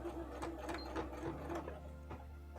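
A sewing machine stitches a cosplay coat, a close mechanical whir with fast rhythmic needle clatter, running steadily then easing near the end, with no talk.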